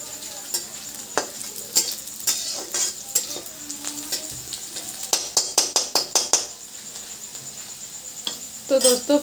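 Onions stir-fried in a pan village-style until reddish brown: a light sizzle under bursts of quick, rhythmic spatula scrapes and clinks against the metal, close up and without talk.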